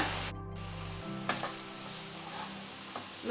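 Crushed garlic and curry leaves fry in hot oil for a Tulu-style squid sukka, giving a steady, close hiss and sizzle with a brief stirring clack partway through.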